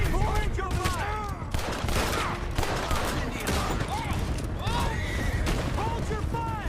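Video game gunfire crackles in rapid, overlapping volleys, shots near and far piling over one another while voices shout beneath the shooting.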